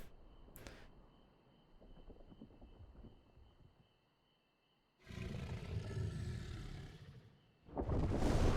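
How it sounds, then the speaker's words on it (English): A creature in the video game Final Fantasy XIV lets out a loud, rough roar in two heavy bursts, the second starting right after the first ends, following a quieter stretch of low ambient game sound. "Roar, not a scream."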